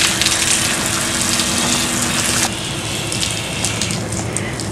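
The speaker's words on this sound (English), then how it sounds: "Okay, we're still hosing off Eve" Warm water gushes from a hose onto a horse named Eve during a bath, a loud, continuous close spray that shifts slightly in tone as the stream moves across her body.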